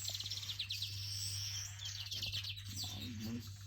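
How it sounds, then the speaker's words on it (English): Weaver birds call in a morning chorus after overnight rain in Uganda, a steady stream of bright chirps and chatters at moderate distance over a constant low hum. "I'm getting quite the display from the weaver birds this morning."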